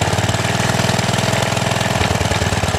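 A vintage 1947 Whizzer Model H motorbike engine idles close by, a loud, rapid, steady chugging of single-cylinder firing pulses with a rough mechanical rattle, running alone.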